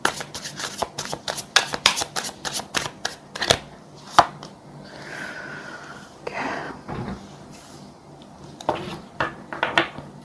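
Tarot cards are shuffled close up in a rapid series of crisp riffling snaps, followed by a quieter pause and a few more scattered card slaps as cards are drawn.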